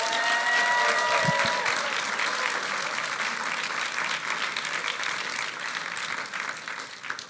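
A large audience at a hackathon awards ceremony applauds the winners with loud, sustained clapping that fills the whole stretch and only eases slightly toward the end.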